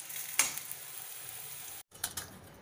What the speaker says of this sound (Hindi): अब मैं कोफ्ते छोंकना स्टार्ट कर रही हूँ